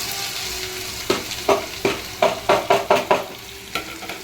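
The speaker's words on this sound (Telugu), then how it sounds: "పోపులు వేగిపోయి ఫ్రెండ్స్, ఇప్పుడు ఆనియన్స్ వేసుకోవాలి." Onions fry in hot tempering oil for a split chickpea tomato masala, a low sizzle broken by a string of sharp, rhythmic scraping strokes of a spoon against the pan, close and distinct.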